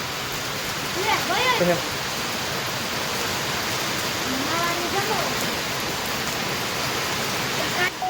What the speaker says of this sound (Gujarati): જોરદાર વરસાદ આવી ગયો